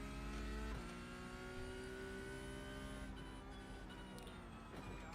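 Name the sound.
Porsche race car engine accelerating out of hairpin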